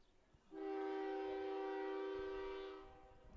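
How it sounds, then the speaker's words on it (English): A train horn sounds one long, steady blast, distant and droning for about two seconds, heard from a high school baseball field in Enderlin, North Dakota. "Another train rolls on."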